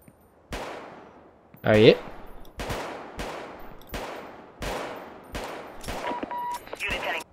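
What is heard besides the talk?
pistol gunshots in video game Vicewave 1984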